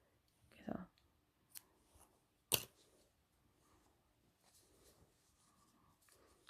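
Scissors snip through crochet yarn with a few sharp, close cuts spread across a quiet tabletop scene of finishing a knitted bottle cover.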